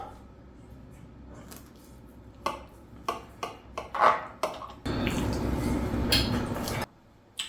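A utensil cuts into and scoops cheesy maize meal paptert in a baking dish: soft scraping taps and clinks at irregular intervals, then a longer denser scrape near the end, all close and fairly quiet.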